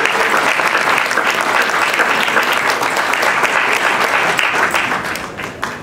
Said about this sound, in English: A round of applause for our new trustees.